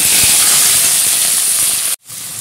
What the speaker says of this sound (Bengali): এগুলোকে আমি এই তেলটাতে ভেজে নেব।